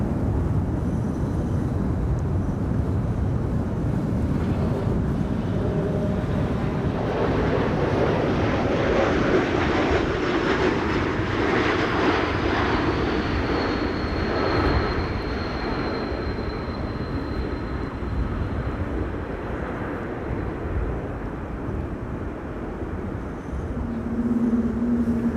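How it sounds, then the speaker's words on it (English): A KLM Embraer 195-E2 airliner arriving at Schiphol during a storm, its broad engine roar swelling loud and steady for the whole stretch, then easing slightly toward the end. "This is KLM flight 1774, arriving from Berlin, E2 Embraer 195."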